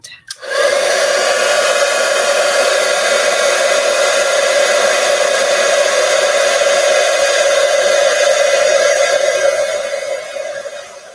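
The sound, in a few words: heat tool blowing hot air on card-making embellishment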